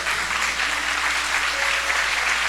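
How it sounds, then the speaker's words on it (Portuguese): Church congregation applauding together, a steady and dense wash of clapping that holds evenly throughout with no pauses and no voices breaking through. "Pode aplaudir o Senhor"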